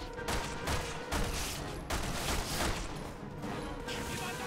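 Rapid gunfire rings out while shooting enemies in Resident Evil 6, a dense series of loud repeated shots in close succession with crashes mixed in, continuing throughout.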